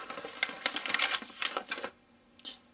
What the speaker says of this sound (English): I'm using my scissors to cut closer to where the resealable portion of the bag is